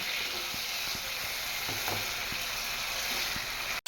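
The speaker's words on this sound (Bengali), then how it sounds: "এখন আলুটার সাথে কিছুক্ষণের জন্য কষিয়ে নেব" Potatoes sautéing with spices in oil for a pabda fish curry give off a steady close sizzle, with a few light scraping stirs scattered through it.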